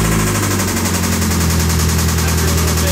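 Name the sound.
Mazda Miata engine rod knock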